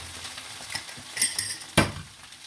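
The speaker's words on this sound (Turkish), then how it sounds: "Toz biberimi güzelce kavurayım." Red pepper powder is toasted in oil in a pan for İzmir köfte, a low sizzle under a few spoon clinks and scrapes against the pan, the loudest stroke near the two-second mark; no voices.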